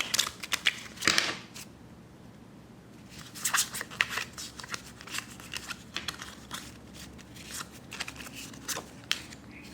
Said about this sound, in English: we're shuffling for the fourth time